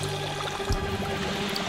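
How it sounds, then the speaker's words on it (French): A pink bath bomb drops into a cauldron of water, setting off a steady pouring, bubbling wash with a soft splash partway through, close and moderately loud. "je vais jeter cette bombe de bain rose dans son chaudron"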